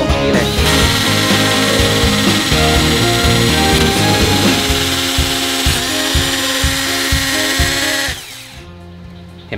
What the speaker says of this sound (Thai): กระแทกรอบสูงนะครับตรงนี้เลย